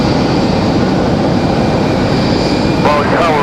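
An airplane on final approach at Raleigh-Durham International Airport gives a steady, loud broadband roar that holds throughout, with a brief voice surfacing near the end.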